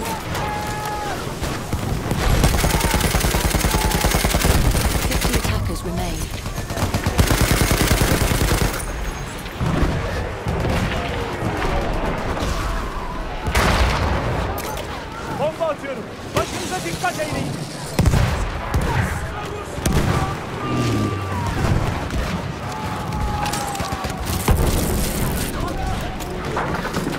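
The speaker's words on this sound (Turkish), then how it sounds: "düşman makinalı tüfeği" Enemy machine-gun fire in a Battlefield 1 match at Cape Helles: long, dense bursts of rattling automatic fire mixed with booms and explosions, loud and continuous throughout, with voices calling out over the battle.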